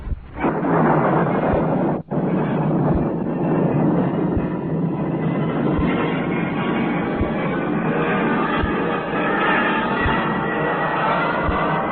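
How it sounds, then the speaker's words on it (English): A rocket blast-off effect from an old science-fiction radio drama roars as a loud, sustained rumbling wash of noise that runs without a break for about twelve seconds, with one short dropout near the start and no voices. "countdown for blast off"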